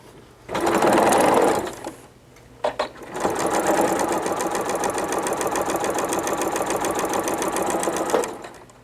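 A sewing machine stitches fabric strips together into a circle for a table runner, a short burst of rapid whirring, a brief pause with a couple of quick taps, then a long, steady run of stitching that stops abruptly.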